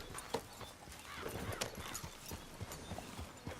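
Horse hooves clip-clopping in a steady trot with a brief whinny, from the game Red Dead Redemption 2, moderately close and fairly quiet with no talking over it.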